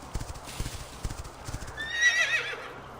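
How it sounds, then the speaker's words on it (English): A horse in the video game Quinfall, with rhythmic clip-clopping hooves up close, then a loud rising whinny near the end while the hoofbeats continue. "Let's get on the horse."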